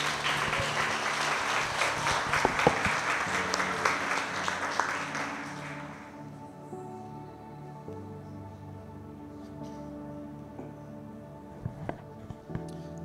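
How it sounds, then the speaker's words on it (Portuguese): A church congregation applauds in a thick, continuous roar that fades out after about six seconds, leaving soft sustained music underneath. "Ele merece ser aplaudido, não merece?"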